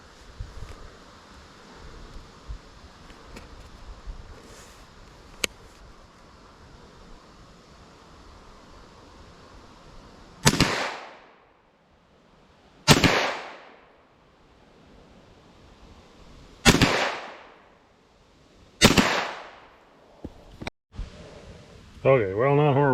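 Ruger PC 9mm carbine firing four sharp, loud shots outdoors at about 80 feet, evenly spaced a few seconds apart, each cracking over quiet outdoor hiss with a short fading tail.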